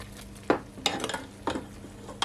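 Crispy crust on air-fried garlic parmesan chicken wings, tapped or handled with a utensil: a few sharp, crackly clicks and scrapes at spaced intervals, close by over quiet background.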